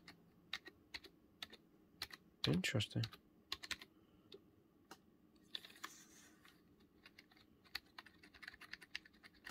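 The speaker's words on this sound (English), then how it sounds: "that's the noise of that keyboard" Rapid clicking keystrokes on a Razer Ornata V3 X low-profile gaming keyboard, close and crisp, with a dense flurry early on and a brief spoken word partway through.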